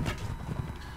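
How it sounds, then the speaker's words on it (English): Horse hooves clip-clop in the Mount and Blade Warband video game, a quick run of soft, close steps over a short moment. "Oh, and there's a horse."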